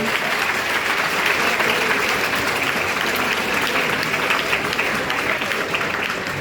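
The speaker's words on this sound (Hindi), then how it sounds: "इस बच्चे के लिए जोरदार तालियां होनी चाहिए" A crowd of students and parents at a Chhattisgarh Sikh community cyber crime awareness event claps loudly and continuously, a dense unbroken wash of applause filling the whole stretch.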